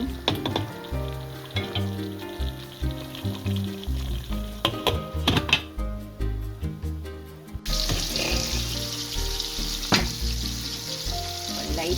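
Prawn biryani being stirred in a sizzling pot, a steady close frying hiss broken by scraping stirs and clinks, with a brief run of heavier clatter before a brighter, denser sizzle takes over for the rest.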